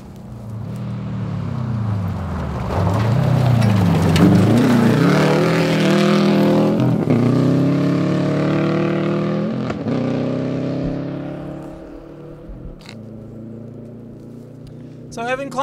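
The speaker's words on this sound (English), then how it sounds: "So Evan Klein zooming by" A Subaru WRX rally car in the Super Production class roars past on a rally stage, its engine rising loudly as it approaches, revving through gear changes and fading away as it speeds off, with a commentator's voice over it.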